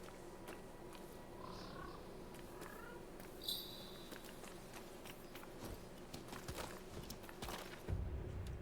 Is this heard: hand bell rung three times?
no